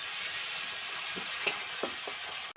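Spices frying in a pan, a constant soft sizzle with a few light utensil scrapes and taps while stirring, ending in a brief knock.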